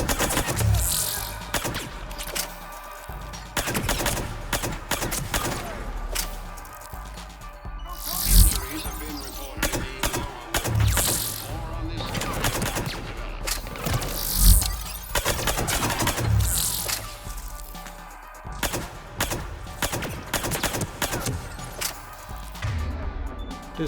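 Mass Effect 3 combat with disruptor ammo loaded, long stretches of rapid automatic gunfire and heavy impacts mixed with crashes, loud and close, while voices speak intermittently over the fight.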